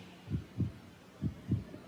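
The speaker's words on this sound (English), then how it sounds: "The only thing I could hear was my heart beating inside of me." Heartbeat sound effect in an audiobook: two paired low thumps, a pause, then another lub-dub pair, soft and muffled with no voice over them.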